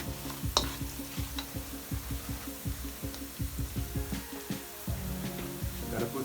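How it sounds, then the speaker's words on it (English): A spoon stirs curried goat in a pot, scraping in a steady rhythm of close strokes over a low sizzle of pimento and flour. "Give it a stir."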